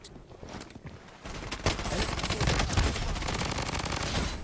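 Gunfire in a shooter video game, with rapid bursts of automatic fire growing denser and louder after a quieter opening and continuing steadily to the end.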